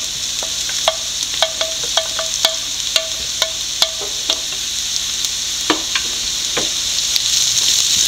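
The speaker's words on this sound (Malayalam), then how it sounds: "ഇനി നമുക്കിത് വഴറ്റിയെടുക്കാം. നമ്മുടെ സവോള പകുതിയോളം വഴന്നിട്ടുണ്ട്. നമുക്ക് ആ ചെറിയ ഉള്ളിയും വെളുത്തുള്ളിയും കൂടി ഇട്ട് കൊടുക്കാം." Onions, shallots and garlic sauté for mutton peralan with a soft steady sizzle, broken by a run of sharp spoon clinks and scrapes against the pan, close and clear, with no talking.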